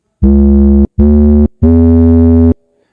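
Three loud, clean synth notes played over an 808 bass line in FL Studio Mobile for a drill beat. Each note is sustained and separated by a short gap, and the last one is the longest.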